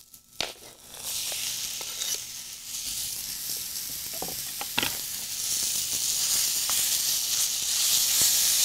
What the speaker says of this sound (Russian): Когда лучок начинает золотиться, это не очень еще пока золотится, я добавила чеснок.